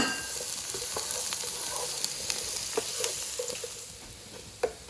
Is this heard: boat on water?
no